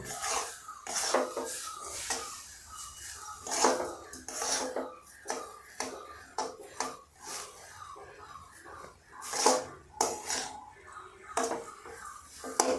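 Semolina (suji) for upma being stirred and roasted in a pan, a series of irregular scraping and clinking spoon strokes against metal, close by, with soft talking in between.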